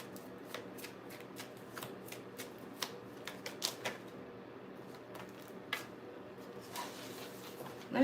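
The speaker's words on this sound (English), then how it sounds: "Let me get a good shuffle on this Banco deck." A deck of tarot-style cards is shuffled by hand close up, giving quiet, rapid riffling flutters and crisp slaps in irregular bursts against a hushed room.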